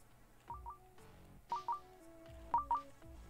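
Electronic phone-style tones in the indie video game Devoker, a short sequence of paired dialing beeps in quick bursts, clear and moderately loud with no talking.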